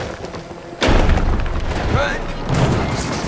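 Heavy in-game explosion in Mafia: The Old Country, a sudden loud boom followed by rumbling debris and a second blast-like swell, with a voice talking over it.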